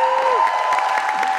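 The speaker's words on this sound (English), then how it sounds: "Round of applause." Studio audience at a cooking competition show gives a short burst of clapping and light cheering, loud and close, lasting under two seconds alongside a sustained tone.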